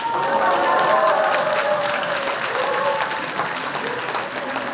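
An audience claps steadily after a seminar lecture by a regional vice-governor, loud and sustained at first, then thinning slightly toward the end, with faint voices mixed into the crowd.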